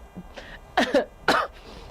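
A person coughs twice in quick succession, sharp throaty bursts close to the mic, preceded by a faint breath.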